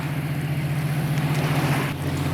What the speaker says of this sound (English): That horribly loud sound you're hearing is actually a towboat.